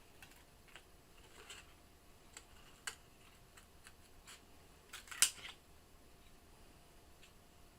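Scissors snip out hand-drawn shapes from small art trading cards, making faint, sparse, crisp cuts with one sharper snip near the end in a quiet room.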